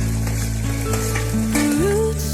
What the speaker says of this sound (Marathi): आलं लसूणची पेस्ट टाकू मिरच्या टाकूया कांदा टोमॅटो टाकूया